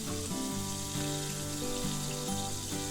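Pork tenderloin sears in a pan with onion added, giving a loud, continuous sizzle and hiss throughout, with no voices.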